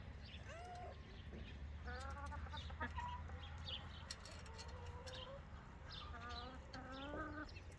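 Several chickens clucking close by in a domestic yard, with repeated short stepped clucks and calls overlapping through the whole stretch over a steady low background hum.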